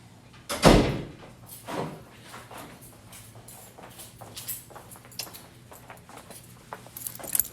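A door bangs shut loudly up close, followed by a second softer thud and rattling, then quieter shuffling handling sounds in an indoor room.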